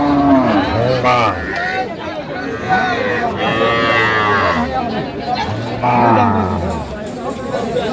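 Cattle at Ambari cow market, a livestock haat selling cows and calves, moo in several long low calls, close and loud, over steady crowd chatter.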